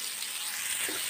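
Paratha stuffing sizzling in melted butter in a pan, a brief, even hiss close by with no voices.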